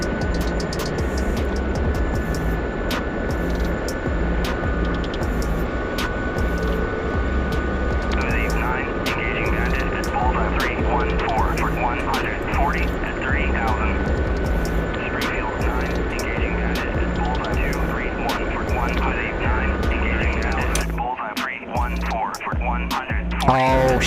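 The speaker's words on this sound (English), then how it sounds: "It's pretty fast for a little helicopter" A small Mi-8 helicopter in a combat video game flies fast, its steady engine and rotor drone continuous and loud throughout, with game radio chatter and beeps layered over it and a brief dip near the end.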